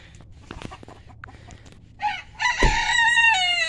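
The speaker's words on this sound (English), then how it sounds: "What sounds a chicken make?" Chickens on a farm cluck and chatter faintly at first, then a rooster lets out a loud, close cock-a-doodle-doo crow that carries through the second half alongside the hens.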